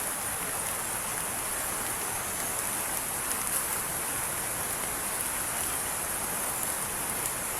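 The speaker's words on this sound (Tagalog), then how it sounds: "napakalakas na ng ulan" Heavy rain pours down in a steady, dense hiss with no letup, loud and close, with no talking over it.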